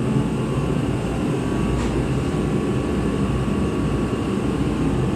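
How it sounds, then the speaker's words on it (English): A heater runs in a workshop, giving off a steady, loud, broadband hum and whoosh that holds unchanged throughout with no talk over it. "sorry about the heater"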